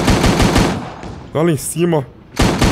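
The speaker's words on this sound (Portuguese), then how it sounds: "Quem tá atirando em mim?" Rapid gunfire in the video game FortCraft, a fast rattling burst at the start and another at the end, loud and close, with a voice speaking between the bursts.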